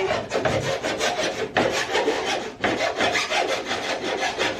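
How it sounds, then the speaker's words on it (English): Hand filing with a rasp while making door card panels for a van conversion: steady, loud back-and-forth strokes close up, a rough scraping rhythm with a brief pause midway, no voices. "And so he's angry filing now."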